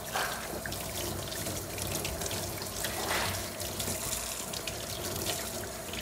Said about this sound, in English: I'm going to rinse with fresh water, everything nice and thoroughly.